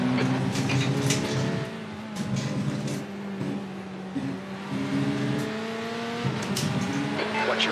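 Race cars in a VR racing video game roar continuously with rising and falling engine revs and gear shifts, loud and close, several cars running together with no talk.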